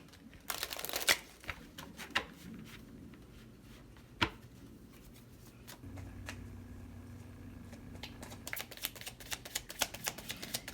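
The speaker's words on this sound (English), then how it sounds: "One more shuffle." Quiet papery riffling and soft taps as cards are shuffled up close, with scattered clicks and a flurry of rapid flicks near the end.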